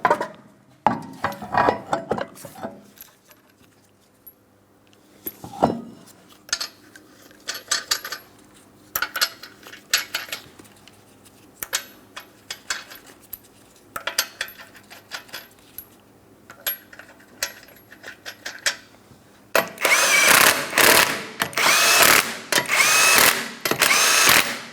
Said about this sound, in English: Let's reinstall our wheel.